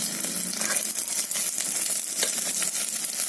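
Garlic sautés in a pan of softened eggplant and chana dal curry base, a steady close crackling sizzle with light stirring scrapes throughout and no talk.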